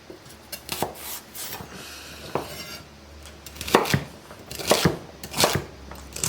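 Knife chopping celery stalks on a board for soup, a scattered series of short crisp cuts with soft rubbing and scraping between them, close and moderately loud, with no talking.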